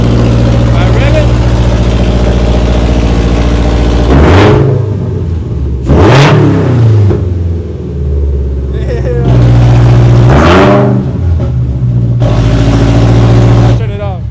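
A Toyota GR86 fitted with unequal-length catless headers and a loose, unattached rear muffler idles roughly, then revs sharply several times in loud, raspy bursts, close to the listener.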